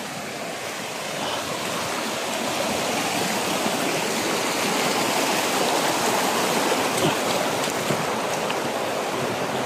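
Creek water flows steadily in a broad, continuous rushing wash that stays close and even throughout, with no voices heard.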